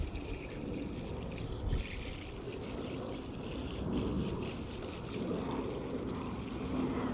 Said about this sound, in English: I'm gonna go over to the hose and get some of this dirt off